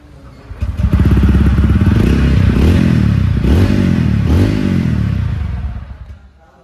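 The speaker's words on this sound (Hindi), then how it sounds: "अभी जो साउंड मैं आपको सुनाता हूँ कि इसकी साउंड कैसी है," TVS Ronin 225 motorcycle exhaust, a loud, deep, bassy idle that rises into a few revs after starting, steady and close, then dying away at the end.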